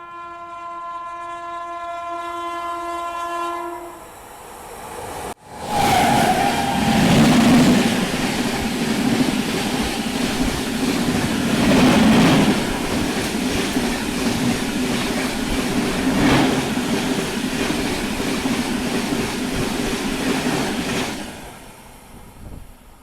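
The Shri Shakti Express passes on an Indian railway line, opening with a long, loud horn blast, then a close, roaring rush of coaches with rhythmic wheel clatter that fades at the end.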